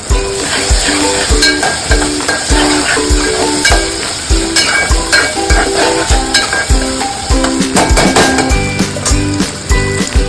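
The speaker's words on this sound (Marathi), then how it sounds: "आता आलं लसूणची पेस्ट टाकूया." Ginger garlic paste hitting hot oil in a pan while cooking veg Kolhapuri, a steady loud sizzle with rhythmic stirring scrapes and clatter throughout, backed by music.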